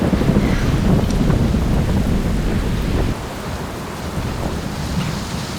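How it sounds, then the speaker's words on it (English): Thunderstorm with gusting wind and rain, a loud continuous roar of wind buffeting the microphone over steady rain, with low rumbling underneath, easing slightly partway through. "It's getting windy."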